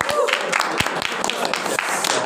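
A small audience at a student chemistry talk claps for the speakers, brief scattered hand claps mixed with murmuring and chatter close by.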